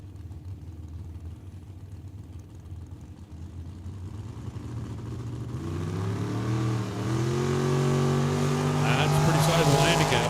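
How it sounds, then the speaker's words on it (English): A Chevelle and a dragster launching at a drag strip: a low idle rumbles under a commentator's voice, then engines rise into loud rising revs and a roaring launch. "We'll send the Chevelle, and then we'll fire a dragster right after him."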